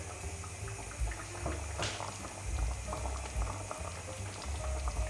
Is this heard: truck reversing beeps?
no